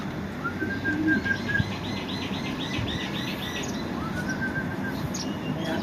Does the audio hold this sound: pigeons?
yes